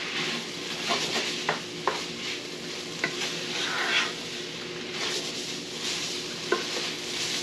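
Food for a Mexican impossible pie sizzles steadily in a frying pan while a utensil stirs and scrapes roughly, with occasional clinks against the pan.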